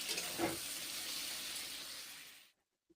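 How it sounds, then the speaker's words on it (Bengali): Food fries in a pan of oil while cooking puffed-up saag curry with vegetables and fried peanuts, a close, steady sizzle with a brief stirring scrape early on, fading out after about two and a half seconds. "এই যে ভেজে নিচ্ছি"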